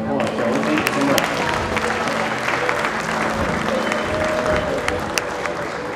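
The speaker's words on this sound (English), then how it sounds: "Let's give them one last round of applause, shall we?" Audience applause at a 2014 junior high school fashion show, a sustained round of clapping and crowd noise with a few sharp claps standing out and some voices mixed in.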